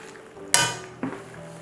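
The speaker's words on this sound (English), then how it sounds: "Give it a stir every 7 to 10 minutes to ensure that it's not sticking" A spoon knocks against a pot of eggplant and chickpea curry, giving one sharp clatter and then a softer second knock about half a second later, close by and with no talking.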